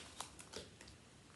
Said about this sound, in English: some extra shuffle in there.